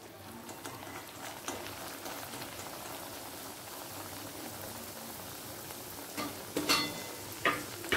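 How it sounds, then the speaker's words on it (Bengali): Sattu puris deep fry in hot oil, a quiet, steady bubbling crackle like light rain, with a few sharper louder pops and clinks toward the end. "এবার পুরিগুলো একে একে ভেজে তুলে নেব"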